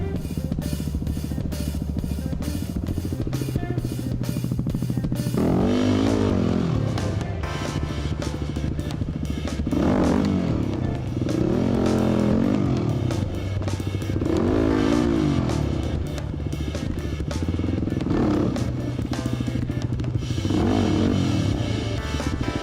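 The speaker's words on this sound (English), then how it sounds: "there are only two bikes riding up this gnarly hill, he and I." Two-stroke trail bikes rev hard climbing a steep, gnarly bush hill at the Watagans, engines rising and falling in repeated loud bursts with clatter throughout.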